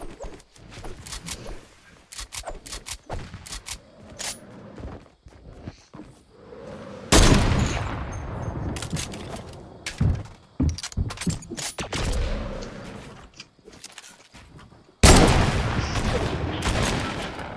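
Gunshots in the video game Fortnite ring out in scattered single cracks and short bursts, with several louder sustained volleys, mixed with intermittent game noise over a long stretch.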